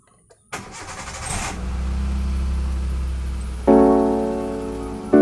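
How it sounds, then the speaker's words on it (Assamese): A manual car with the clutch pressed cranks briefly after a click, catches and settles into a steady idle, then gives a sudden louder rise in engine note near the end. "এতিয়া আমি গাড়ীখন ষ্টাৰ্ট কৰিব লাগিব।"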